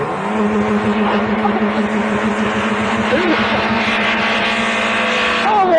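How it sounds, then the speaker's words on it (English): Several car engines, including a Ford Focus, run without oil or coolant, a dense continuous mechanical roar with rough knocking pulses, steady and loud throughout. "We're now going to start them, and I'll start the timer. So, 3, 2, 1, start your engines."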